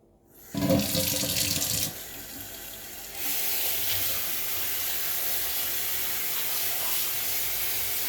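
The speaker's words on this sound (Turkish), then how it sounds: "doğradığım kabakları yıkayacağım" Water runs from a tap, opening with a loud splashing gush, then settling into a steady, continuous stream over chopped squash being rinsed in a sink.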